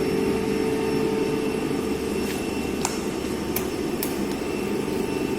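A DC shunt generator runs under load in a lab, giving a loud, steady close-up mechanical whine and hum with a few faint clicks over it.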